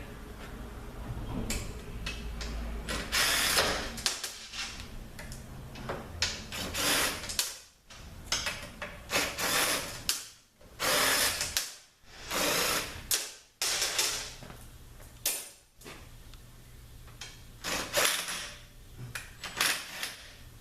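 Irregular bursts of ratchet clicking from a T40 Torx bit working fasteners loose during a ZF 5HP24A automatic transmission teardown, close and fairly loud with short pauses between runs.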